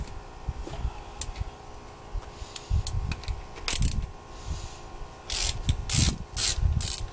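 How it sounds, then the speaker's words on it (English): A hand ratchet clicks and grinds as it turns over the engine of a 1998 Chevy Blazer during motor work: uneven bursts of rasping pawl clicks and scraping metal, close and fairly loud, with louder flurries toward the end and no voices. "Now it's starting to turn the motor over."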